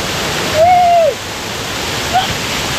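Cold mountain waterfall with water dropping from above, a steady broad roar of falling water filling the scene, close and loud, with a brief voice tone and a short vocal sound over it.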